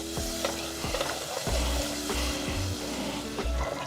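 Butter melting in a pot while being stirred for candied yams, a close sizzle with repeated spoon scrapes and knocks against the pot, continuous and moderately loud with no talking.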